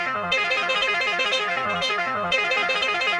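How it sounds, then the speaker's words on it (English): Arpeggiated synth sequence passed in and out of several effects pedals and then chopped up, heard as a dense, distorted, rhythmically stuttering loop that plays loud and continuous with abrupt cuts. "the main lead of the loop is an arpeggiated sequence, ran in and back out of several pedals, then chopped up"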